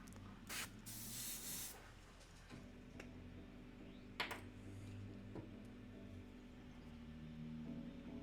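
An airbrush sprays acrylic paint in soft, steady hissing bursts, with a few longer louder blasts near the start and light ticking and clicks scattered over a quiet background.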